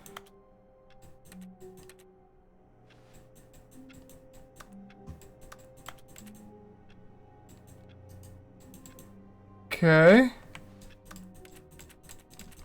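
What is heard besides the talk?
computer keyboard clicking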